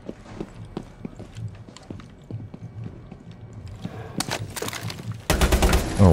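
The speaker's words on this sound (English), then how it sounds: "I just shot something" Gunfire in Rainbow Six Siege: sharp footstep-like clicks give way to loud rapid bursts of shots near the end, close and harsh.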